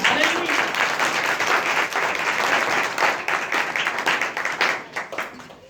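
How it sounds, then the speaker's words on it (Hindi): Loud, continuous clapping from a church congregation during a sermon, dense and steady before gradually tapering off. "यीशु मसीह की जोरदार ताली बजाएंगे।"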